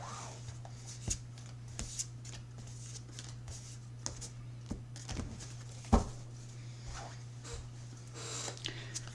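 Tarot cards being shuffled in a string of soft papery riffles and taps, steady and close, with a faint hum underneath and no talking.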